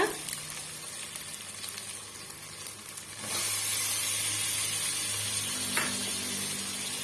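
Onion, ginger-garlic paste and tomato sauté for a chicken gravy, first with a soft sizzle, then with a louder, steady hiss of frying that swells midway and carries on to the end.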